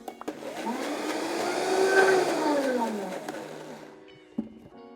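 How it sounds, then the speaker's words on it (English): Blender whirring up a spring pesto sauce: the motor spins up, holds a rising and falling whine for a few seconds, then winds down, close and loud, with a small knock near the end. "We're going to put the lid on, and we're going to blend this bad boy."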